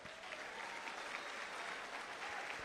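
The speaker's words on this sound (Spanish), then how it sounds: "déle otro aplauso al Rey" A congregation at a church sermon applauds, a soft, distant-sounding, continuous patter of many hands clapping evenly for a few seconds.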